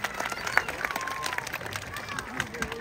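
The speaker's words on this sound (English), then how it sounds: "Let's give him a big round of applause for that" Audience applause at an outdoor wildlife show at a safari park in Hamilton, Ontario, after a bird of prey snatches a lure from a pond; scattered clapping and crowd noise keep up steadily throughout, with a faint voice underneath.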